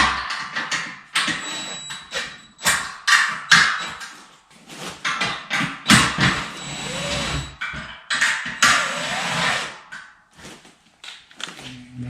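An impact driver tightens bolts on a metal-framed Yaheetech computer desk, firing in repeated short rattling bursts separated by pauses and handling clatter, close and fairly loud.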